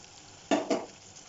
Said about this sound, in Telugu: సో ఇది కూడా ఆయిల్లో బాగా వేగాలి. ఇది త్వరగానే వేగిపోతుందండి